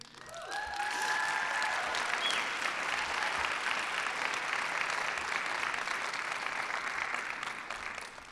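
Steady crowd applause fills a hall at a fall commencement ceremony for an award recipient, even and sustained for several seconds, with a brief tonal flourish at the start and no talking.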